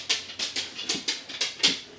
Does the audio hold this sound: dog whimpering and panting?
yes